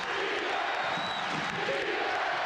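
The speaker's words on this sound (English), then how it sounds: "The crowd yelling defense." An arena crowd at a 1995 Iowa State versus Kansas college basketball game yells a sustained defense chant, a dense, roaring wall of many voices that carries steadily throughout.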